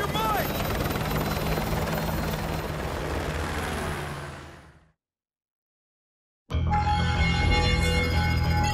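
Military helicopter in Call of Duty: Modern Warfare 2 Campaign Remastered, a loud, steady rotor roar that fades out, drops to silence, then cuts back in close and heavy over a game soundtrack.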